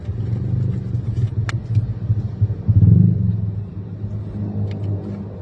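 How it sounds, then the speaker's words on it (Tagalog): A car engine rumbles steadily in heavy traffic, a low continuous drone with slight swells and a brief surge, heard from inside the vehicle with faint road noise and no talking. "Traffic na. Sobrang traffic."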